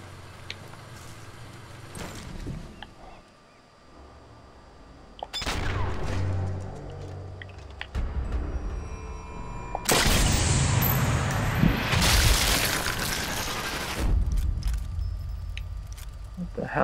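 Mortar strike explosions from the video game Sniper Elite 4 hit in heavy, roaring bursts, the loudest a long blast-and-debris wash near the end, with quieter mechanical clicks and rumbles between them.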